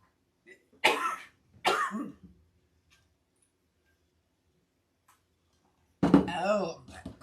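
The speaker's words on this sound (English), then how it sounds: "Oh, that cough." Two quick harsh coughs close to the mic, then a pause of silence and a longer rough cough or throat-clearing burst.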